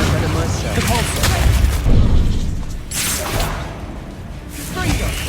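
Repulsor spell blasts from Hogwarts Legacy combat, with several loud booming whooshes and crackling impacts that surge in bursts over dense battle noise.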